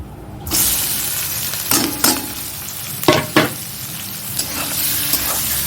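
Onions frying in hot oil with meat in a pan, a loud continuous sizzle broken by several sharp scraping clatters of a spoon stirring against the pan.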